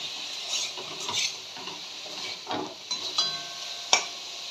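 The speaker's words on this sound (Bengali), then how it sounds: "একটু আঁচটা বাড়িয়ে দিচ্ছি ফ্লেমটা, যাতে একটু বেশ ভাজা ভাজা মতনটা হয়ে যায়।" Red amaranth greens with poppy seeds frying on a raised flame, soft sizzling with a few spatula scrapes and a sharp clink near the end, close by.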